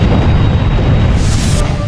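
The Space Shuttle Challenger explodes in a loud, sustained roaring boom that fills the moment with dense, continuous rumble.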